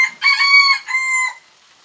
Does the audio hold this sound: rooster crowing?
yes